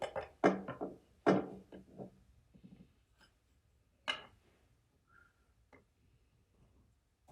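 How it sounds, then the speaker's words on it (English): Hammer taps on the stuck Bendix shaft of a starter motor, several sharp close knocks in quick succession followed by a few fainter, sparser taps and quiet gaps. "So what I'm going to do now is get a hammer down and give it a tap."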